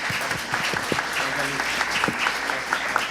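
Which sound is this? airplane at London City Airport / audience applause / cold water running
audience applause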